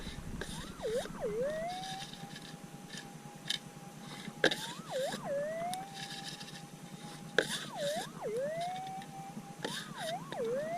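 A metal detector sweeps for gold over schist ground in the Arizona desert, its tone rising and falling in warbling sweeps that repeat about every three seconds, with sharp clicks between them, steady and close.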